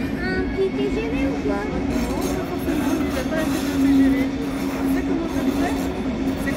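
A double-decker train at Cologne main station, heard as a steady low rumble with sustained humming tones throughout, a continuous close presence with faint voices underneath.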